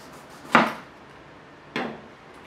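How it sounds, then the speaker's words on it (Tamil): A knife cuts into a fruit on a board in two sharp, crisp chops about a second apart, close and clear with short decays and no talk. "இது இங்கே மேலே கட் பண்ணிடலாம்."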